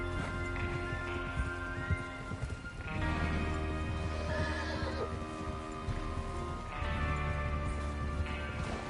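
Horses whinny and neigh repeatedly over a busy background of hooves and rumbling activity in Red Dead Redemption 2, fairly loud and close.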